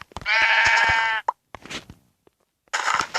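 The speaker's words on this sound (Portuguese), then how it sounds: "Agora vamos matar as ovelhas." Sheep in a survival video game bleat in a long, loud call, followed by a few softer, shorter bleats and a fresh call starting at the end, with no talk.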